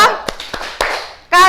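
Classroom of children doing the "tepuk wow" rhythmic clapping game, a few sharp, separate claps spaced apart, followed by a burst of voices at the end.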